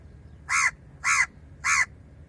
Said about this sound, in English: these birds are coming to take a look